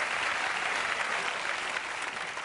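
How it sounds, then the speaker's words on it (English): A studio audience at a late-night talk show applauds in a steady, dense wash of clapping, loud and unbroken throughout. "I still don't know what they're applauding for."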